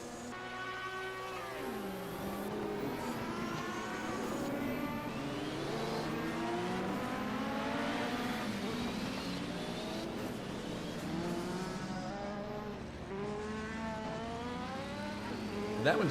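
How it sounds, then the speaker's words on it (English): BMW race cars at a 1978 DRM super sprint, their engines droning and rising in pitch as they accelerate, a continuous layered roar of several cars heard from trackside. "There's Gabriel Sturr in the BMW"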